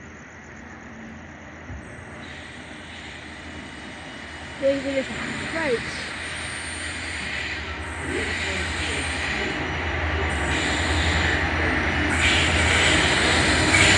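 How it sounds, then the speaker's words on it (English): A train pulls into Harris Park station, its rumble swelling steadily from faint to loud and close, with brief squeals partway through and a voice speaking over it. "There's another train coming."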